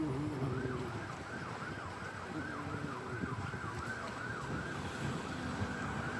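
An ambulance siren wails as it passes along a downtown street, its repeating rising and falling tone clear and moderately close over traffic noise.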